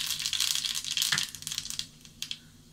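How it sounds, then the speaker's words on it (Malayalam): Mustard seeds splutter in hot oil for a prawn and raw mango curry, a close burst of crackling pops that is busiest at first and then thins to scattered snaps. "കടുക് പൊട്ടി തുടങ്ങിയിട്ടുണ്ട്."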